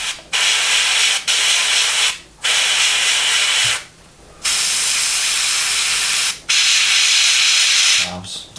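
Short and long bursts of an aerosol spray can paint parts of an Airfix 1/72 Westland Wessex model kit grey, loud close hissing blasts separated by brief pauses.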